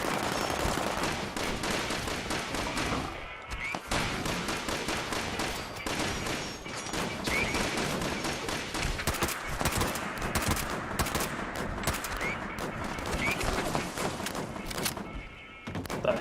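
Rapid bursts of gunfire from a Fallout 76 firefight rattle out almost continuously, sharp repeated shots close and loud, with occasional brief pauses and heavy thuds between bursts.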